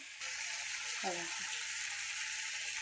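Pumpkin vegetable cooks in a covered pan with a constant soft sizzling hiss, and a voice briefly speaks at low level partway through.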